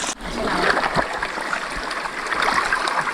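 Water gushing out through a breached channel in a farm field, a steady close rushing and splashing flow that continues throughout.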